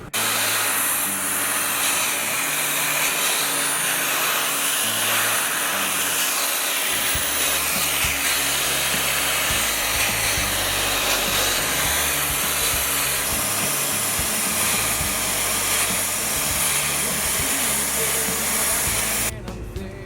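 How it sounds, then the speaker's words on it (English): A sandblaster works over a truck wheel from a Duramax pickup, producing a loud, steady roaring hiss that runs without a break for about twenty seconds and cuts off at the end. "I've decided to sandblast the entire wheel."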